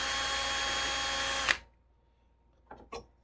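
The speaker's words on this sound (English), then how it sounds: "put my drill into there, into the starter hole" A power drill bores a hole into wood for a homemade wooden hinge, whirring steadily and loudly for about a second and a half before stopping, followed by two faint knocks.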